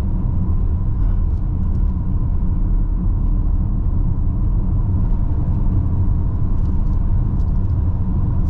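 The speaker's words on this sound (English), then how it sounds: "apart from you do get a little bit tire noise" Steady tire and road roar inside a 2022 Kia Sorento 2.2D Premium at driving speed: a continuous low rumble, fairly loud and even throughout, with no talking.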